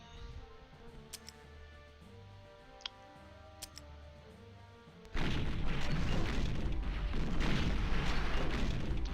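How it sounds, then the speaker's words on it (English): Egyptian artillery firing in the People's General video game during a Six Day War 1967 scenario: scattered faint ticks and a lone thud, then a sudden loud rolling rumble of bombardment that lasts to the end. "Holy crap, that Egyptian artillery has a long range"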